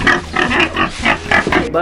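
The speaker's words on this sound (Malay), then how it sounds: "Babi." A pig grunts and oinks in a rapid series of rough, nasal snorts, close and loud, continuing steadily throughout with no pause.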